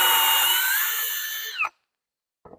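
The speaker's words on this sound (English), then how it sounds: "I just have to drill this." A power drill bores a 0.28 hole through a wooden toybox part with a loud, steady high whine that sags slightly, then cuts off abruptly, followed by silence and a brief soft handling knock.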